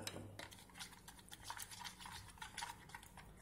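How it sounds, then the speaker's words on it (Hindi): A spoon stirs butter into melted chocolate, making soft, quiet clinks and scrapes against the bowl in a loose, repeating rhythm, with no talking. "मिक्स कर देते हैं बटर को भी।"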